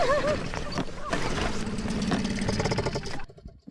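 A sailboat's engine idles to warm up with a steady mechanical chug and rattle, loud and close, off Great Barrier Island, New Zealand, with people talking over it before it cuts off abruptly near the end.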